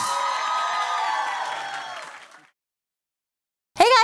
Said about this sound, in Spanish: El aplauso, fuerte el aplauso para Juanes